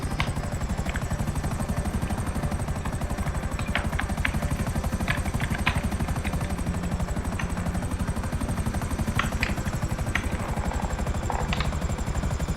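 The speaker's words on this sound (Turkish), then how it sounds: "Burada bir helikopter var." A helicopter's steady rotor thump and engine drone fill the scene continuously in the video game GTA 5, with occasional faint higher clicks and chirps over the constant rumble.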